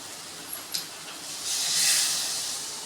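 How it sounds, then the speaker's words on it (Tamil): Water is poured into a hot pan of brinjal curry, bursting into a loud, close hissing sizzle of steam that swells and then slowly fades. "இப்போ 1 சொம்பு தண்ணி நம்ம ஊற்றிடலாம்."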